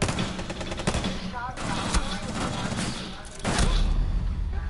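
Rapid bursts of video-game gunfire, loud and close, fire in several volleys with thuds between them, while voices talk over the shooting.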